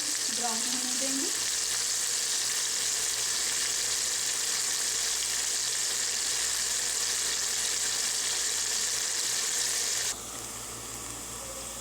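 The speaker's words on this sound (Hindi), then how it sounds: "ऑयल हमारा गर्म हो गया है, प्याज डालेंगे। प्याज को गोल्डन ब्राउन होने देंगे।" Onions fry in hot oil for chicken haleem, giving a loud, steady, dense sizzle that stays close and constant and softens slightly near the end, with no talking over it.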